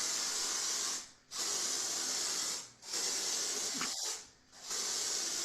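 A spray bottle applied onto a photography subject to alter the light, giving three sustained hissing sprays with brief pauses between, close and fairly loud.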